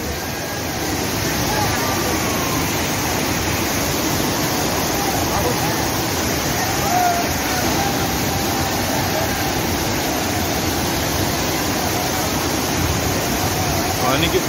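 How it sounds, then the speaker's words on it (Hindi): A waterfall rushes and roars continuously in a dense, steady wash of noise, close and loud with no pauses, throwing heavy spray, at Ghatarani in Gariaband, Chhattisgarh. "पानी की आवाज आप सुनिए।"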